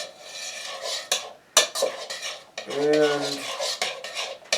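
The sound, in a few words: stirring mango and black bean salsa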